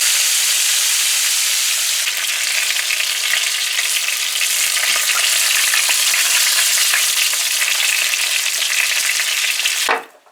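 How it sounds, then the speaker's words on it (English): Butterfish frying in hot oil makes a dense, steady, loud sizzle and crackle that runs unbroken for about ten seconds before cutting off abruptly. "Alright, so we're gonna fry these out,"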